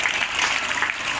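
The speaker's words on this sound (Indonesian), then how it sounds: "berikan tepukan kepada yang berbahagia Datuk" Dense, steady applause from a crowd at a school athletics championship closing ceremony in Pitas, honouring a Datuk, continuous clapping at moderate loudness with no talk.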